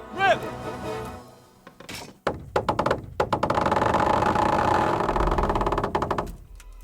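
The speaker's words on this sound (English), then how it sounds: "That was just the first shot. The trebuchet has to be calibrated." A medieval trebuchet in the Kingdom Come Deliverance video game fires its first shot at castle walls: a heavy thunk and creaking release followed by a long rumbling crash, with people talking around it.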